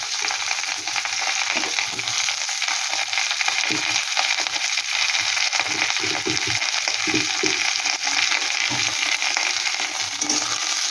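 Onions frying in oil with chopped ginger and garlic, a steady bright sizzle throughout with occasional stirring scrapes and taps of a utensil in the pan.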